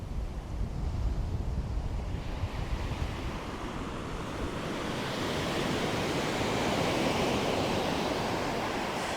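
Sea surf breaking near a fishing village shore with moored boats, a continuous broad roar of waves mixed with gusty wind buffeting the microphone, steady and fairly loud throughout.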